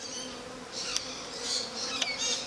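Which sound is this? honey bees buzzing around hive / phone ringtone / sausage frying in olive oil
honey bees buzzing around hive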